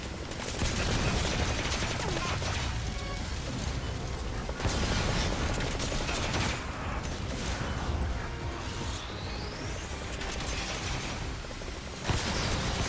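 Dense, continuous gunfire rattles without pause in Metal Gear Survive, with mortar rounds whooshing in and booming amid the loud, sustained shooting.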